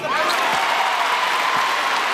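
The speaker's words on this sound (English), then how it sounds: "this crowd continues to applaud their team more so on the defensive end than they have even on the offensive end in this game" A basketball arena crowd applauds steadily at a college men's game between Wake Forest and North Carolina, a dense, continuous wash of clapping filling the whole moment without letup.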